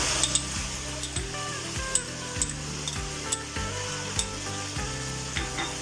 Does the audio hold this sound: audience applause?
no